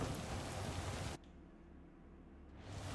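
Rain in Cyberpunk 2077 on a night ride, a steady hissing downpour that drops out suddenly for over a second and then swells back in.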